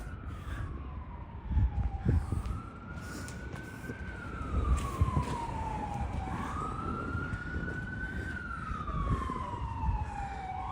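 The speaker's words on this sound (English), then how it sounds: "right here, where you hear the ambulance" An ambulance siren wails, sweeping slowly up and down in pitch, rising over a steady rumble of Brooklyn city traffic and passing vehicles.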